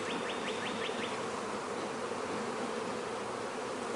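Agitated honeybees in an opened hive make a loud, dense, continuous buzzing that fills the space without a break.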